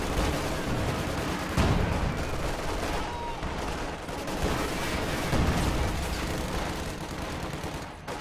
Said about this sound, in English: High explosive barrage going out on these Volks Grenadiers will prompt them to reposition a little bit.